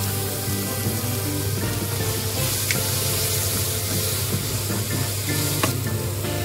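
Small cherry tomatoes sizzle and spit steadily in a hot pan, a dense, continuous frying hiss with a few sharper pops near the end, close and fairly loud with no talking.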